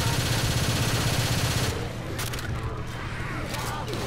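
Gunfire aimed at a Tank in Left 4 Dead 2, dense rapid shots rattling steadily for the first two seconds, then lighter sporadic fire under brief voices.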